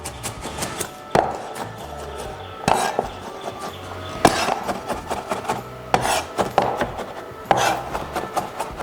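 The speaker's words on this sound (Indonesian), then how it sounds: "Lalu ini mau kita cincang." A knife mincing smashed, peeled aromatics on a cutting board for a rice-cooker Singapore chicken rice, with a steady rasping chop broken by sharper thuds, close and with no talking.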